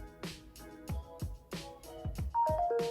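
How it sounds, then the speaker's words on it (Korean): Background music plays with a rhythmic beat, and near the end a short, bright electronic chime sounds, a phone app notification for a completed torrent download. "다운로드가 완료되면 이렇게 앱 알람이 오게 되고요."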